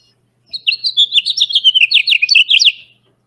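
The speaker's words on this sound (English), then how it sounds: "Merlin identified it as a house finch" House finch singing outdoors from a tree, a clear, bright warbling song of quick varied chirps and trills lasting a couple of seconds, close and alone with no talk.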